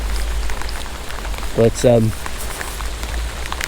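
Steady rain patters on surfaces around an outdoor fishing spot, a constant wash of noise, while someone briefly speaks over it.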